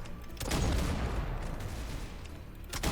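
Rapid gunfire from a Roblox Counter Blox round, a dense continuous burst of shots with booming low end running nearly the full three seconds, loud and close, with a sharper shot at the start and end.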